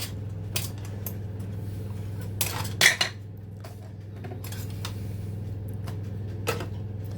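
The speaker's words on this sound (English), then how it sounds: "we now need to give the mixture in the jar a really good stir" A whisk knocks and rattles around a jar holding Cumberland sauce mixture, giving a few sharp clinks and scrapes over a steady low background hum.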